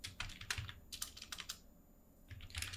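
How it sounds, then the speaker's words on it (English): Quiet, close keystrokes on a computer keyboard come in quick, uneven bursts with a short pause in the middle, as someone types a comment into After Effects expression code, with no talking. "I can type forward slash two times like this and I can type the comment"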